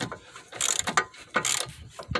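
A sway bar link on a car axle being unscrewed, with a few short ratcheting and metallic clicking bursts close by, separated by brief pauses.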